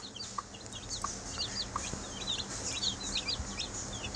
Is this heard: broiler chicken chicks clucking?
yes